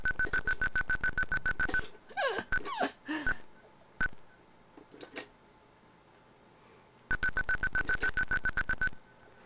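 Rapid electronic beeps from an Atari 8-bit maze game come in quick regular bursts at the start and end, with squealing and chirping game effects in between, moderately loud and with no talking.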